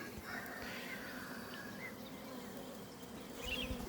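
Honeybees hum faintly but steadily around an open hive of a colony being checked for the swarming state, a soft, continuous buzz with no voices.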